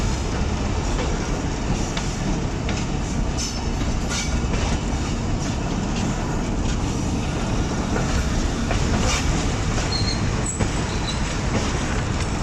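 The 122 Down Ravi Express rolls into Shorkot Junction station in Pakistan, heard from aboard as a steady, loud rumble of railcars with rhythmic wheel clatter and brief metallic squeals near the end.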